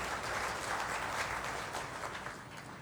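Audience applause welcoming Lok Sabha Speaker Om Birla at the CAG Audit Diwas event in New Delhi: a dense, even roll of many hands clapping, steady and moderately loud, slowly tapering toward the end.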